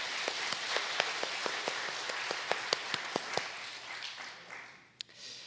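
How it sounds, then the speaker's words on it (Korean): A church congregation claps during a Korean worship service, with a run of sharp, fairly distant hand claps that fade out toward the end. "우리 하나님께도 더 큰 박수 올려드리겠습니다"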